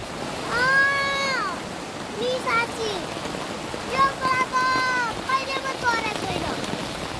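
Steady rushing water from a stream fills the background, continuous and fairly close, while people talk and call out over it.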